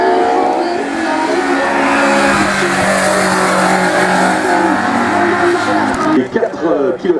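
Race car at the 61st La Pommeraye hill climb, a loud, close engine roaring steadily and then shifting and fading, with an announcer talking over it on a public address system.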